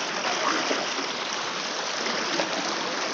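Water rushing steadily at Puliyancholai waterfall, a constant broadband roar that holds at an even level with no pauses, close and fairly loud, with no talk.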